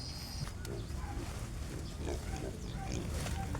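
Pet piglets oink and grunt on a pig farm, several short snorts scattered over a steady noisy background, moderately near.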